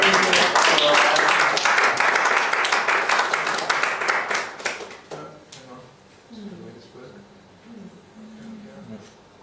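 Audience applause at a gathering, a dense burst of many hands clapping for about five seconds that thins out and fades, followed by quieter room sound and faint talking.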